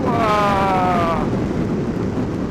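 Strong storm wind roars over a rider on a Ducati Multistrada 1200 motorcycle at highway speed, a loud continuous rush with a brief whistling tone near the start.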